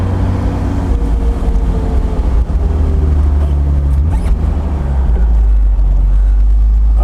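A Mercedes-Benz 280SL Pagoda makes a lap of a skid pad, its engine a loud, steady drone that swells slightly through the turn, with rushing wind and no voices.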